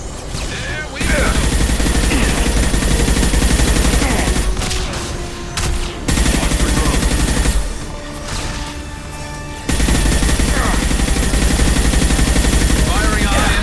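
Heavy sustained gunfire from a high impact shot in the Mass Effect 2 video game, dense automatic bursts lasting several seconds with brief gaps between volleys, loud and close, with faint talk underneath.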